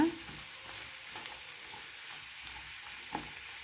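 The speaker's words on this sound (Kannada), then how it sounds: "ಇವಾಗ ಒಂದು ಚೆನ್ನಾಗಿ ಮಿಕ್ಸ್ ಮಾಡೋಣ" Ivy gourd palya being stirred in a frying pan, a soft steady sizzle with a few faint scraping strokes of the spoon against the pan, quiet and close with no talking.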